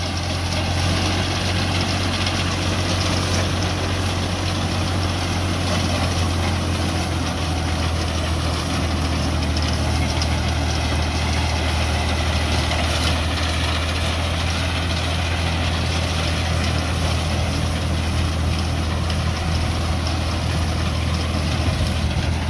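A reaper machine mounted on a Ghazi tractor runs with its engine idling, giving a steady, dense, continuous mechanical drone with low hum, holding constant and loud throughout with no speech.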